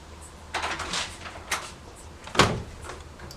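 Several short rattling knocks and a louder thump of a door being opened, spaced irregularly over quiet room noise.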